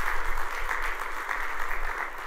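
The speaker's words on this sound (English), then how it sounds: "Another round of applause for the first timers." A conference audience at a summer business gathering gives a sustained round of applause, an even, continuous clatter of many hands in a large room with no speech over it.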